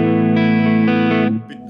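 A Yamaha Revstar electric guitar plays through an amp with no tremolo, ringing out loud, sustained, slightly driven chords that change a few times before fading, with no talk.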